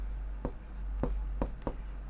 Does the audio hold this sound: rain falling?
no